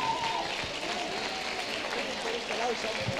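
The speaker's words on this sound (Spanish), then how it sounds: "Un fuerte aplauso." Audience applause at the closing award ceremony of a FIRST LEGO League robotics competition as a team receives medals, steady dense clapping filling the room with faint talk underneath.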